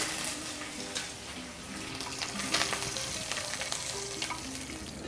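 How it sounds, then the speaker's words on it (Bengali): Panch phoron, cumin and curry leaves fry in hot oil with a loud, continuous sizzle and crackle, joined by occasional scraping stirs close by. "এদিকেও তেল গরম হয়ে গিয়েছে। আমি এখানে প্রথমে হালকা একটু পাঁচফোড়ন দিব, তারপরে একটু জিরা দিব"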